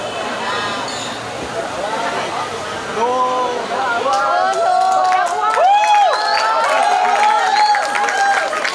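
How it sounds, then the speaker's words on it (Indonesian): Applause and cheering from an audience at a Class 9 graduation and farewell ceremony at SMP Negeri 2 Jakarta, a steady crowd roar with clapping and raised voices that grows fuller partway through. "Beri tepuk tangannya untuk Alwan dari 9H"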